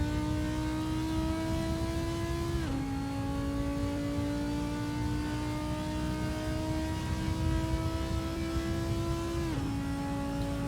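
Audi R8 GT4 race car in Assetto Corsa at Silverstone, its engine note rising steadily under acceleration with two quick gear-shift drops, a continuous whining drone with no talk.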